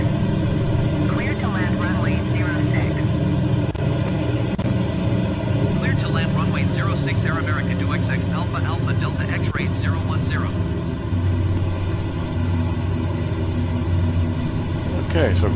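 Steady, loud engine drone from a Lockheed Electra 10A in Microsoft Flight Simulator 2020, holding a continuous low rumble throughout the approach with throttle pulled back, while a voice talks over it.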